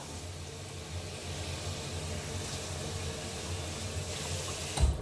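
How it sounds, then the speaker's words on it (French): Tap water running steadily into a sink to wet a washcloth, a soft, even hiss of flow heard alone and close, ending with a small splash. "Donc je mouille mon gant"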